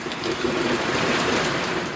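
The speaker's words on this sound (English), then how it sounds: "It's beginning to ease up just a bit, but it's still raining pretty hard." Heavy rain pours steadily outdoors, a dense, close wash of hiss and spatter with no pauses and no voices.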